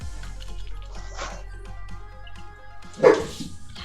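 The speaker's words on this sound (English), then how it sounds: "Rebel immediately starts to bark." A dog barks indoors, several short barks scattered over a low steady hum, with one louder, sharper bark near the end.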